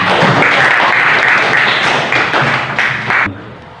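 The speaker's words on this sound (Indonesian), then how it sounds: "Tepuk tangan untuk temannya." A classroom of students claps for a classmate, a dense, loud round of hands that holds steady, then thins and stops abruptly near the end.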